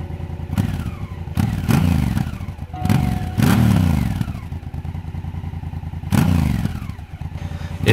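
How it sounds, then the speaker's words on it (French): A motorcycle engine revs loudly several times, each blip rising sharply then falling back to a rumbling idle, close by, with no talking. "T'as pas encore entendu le son de la bête?"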